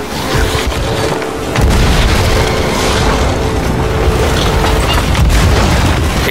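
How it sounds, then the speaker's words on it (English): Ship cannons fire during a Sea of Thieves naval battle against skeleton ships, with heavy booming explosions piling into a dense, loud, continuous roar that swells after the first second and stays intense throughout. "The gunfire really exploded."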